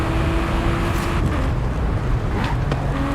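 A car engine in the racing game Forza Horizon 5 drones steadily while the car is driven, a continuous smooth roar with slight pitch shifts and no talk over it.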